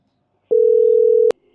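A single telephone busy-signal tone sounds once, a clean steady beep lasting under a second and standing alone against near silence, followed by a faint trailing murmur.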